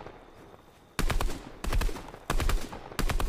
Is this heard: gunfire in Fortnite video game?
yes